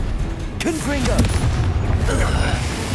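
A Confringo fire spell bursts in Hogwarts Legacy, with a deep booming blast and crackling impacts alongside a shouted incantation and other game voices.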